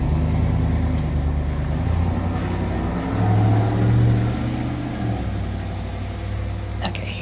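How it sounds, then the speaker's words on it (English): A neighbor's noisy truck drives past on a cold day, a loud low engine rumble that swells in the middle and then eases off, with a faint voice underneath. "Noisy neighbor's truck."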